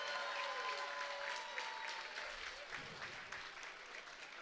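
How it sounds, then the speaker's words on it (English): Steady, dense applause from a crowd at a K Series kickboxing event honoring two fighters after their bout, a continuous wash of clapping that holds fairly loud, then slowly thins toward the end. "a round of applause for two great fighters and one great contest"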